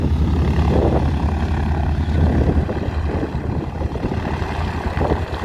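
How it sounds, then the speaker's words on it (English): A 1942 DC-3 propeller aircraft's left engine starts up with a deep, steady drone and rumble, fairly loud and close, with no talking. "they fire up the left side engine"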